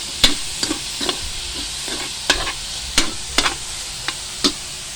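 Pork sautéing in a pan, a low steady sizzle punctuated by several sharp spatula scrapes and knocks at uneven intervals, close and without talk.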